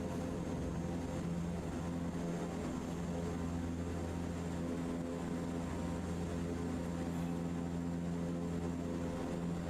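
Steady propeller airplane engine drone in Microsoft Flight Simulator 2024, idling before takeoff on a Colorado Springs runway, a constant loud hum with no talking.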